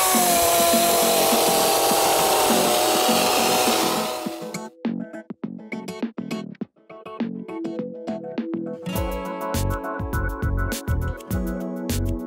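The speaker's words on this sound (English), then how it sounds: "After using a chainsaw to cut large holes for each end of your net" A chainsaw cuts holes through lake ice for setting a fishing net, a loud continuous whine for several seconds that then breaks into irregular choppy bursts and revving.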